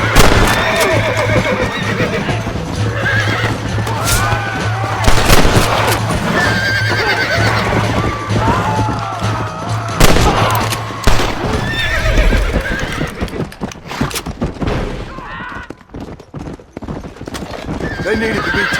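Horse hooves clip-clop at a gallop with loud whinnies and neighs in a Red Dead Redemption Western setting, busy with game action and brief voices; the hoofbeats fade out toward the end.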